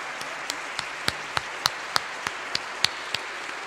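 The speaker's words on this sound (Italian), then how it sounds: "vi invito a fare un bel applauso di incoraggiamento" Sparse, scattered handclaps from an audience in a church at a Mother Teresa musical event in Rome, a dozen or so distinct claps spread unevenly over a quiet room, light and moderately near.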